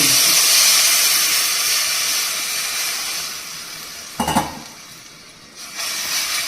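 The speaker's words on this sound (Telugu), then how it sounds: "పులుసు పోసుకొని మంచిగా కలుపుకోవాలి" Tamarind broth poured into a pan of hot oil with curry leaves, ginger paste and turmeric for mirchi pulusu, a loud sizzling hiss that gradually settles, followed by a couple of clinking stirs of a spoon against the pan.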